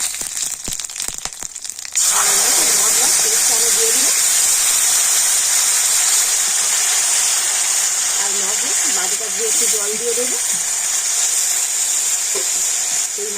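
Whole cumin seeds and whole garam masala hitting hot oil, a sudden loud burst into a steady close sizzle and hiss that keeps going, with a voice talking over it.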